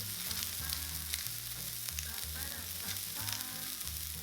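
Rice burger patties seasoned with salt and black pepper frying in a pan, a soft steady sizzle and crackle with faint scraping, fairly quiet and uninterrupted, no voices.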